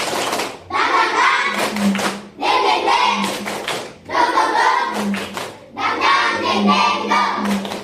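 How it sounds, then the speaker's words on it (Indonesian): A group does tepuk semangat, a rhythmic clapping chant: bursts of quick claps come in repeated patterned phrases with short gaps, voices chanting along close by. "Tepuk semangat."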